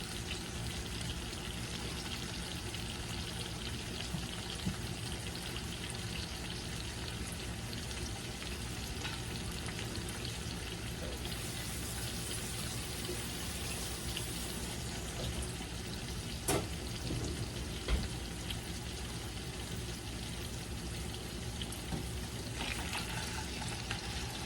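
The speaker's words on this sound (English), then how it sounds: "Nothing like good old fried potatoes." Potatoes and onions fry in a skillet with a continuous, even sizzle and the occasional stir or clink breaking through the crackle.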